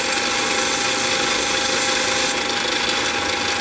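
A mini lathe spins steadily while 800 grit sandpaper is held against the turning workpiece, making a loud, continuous close-up hiss and whir with no pauses.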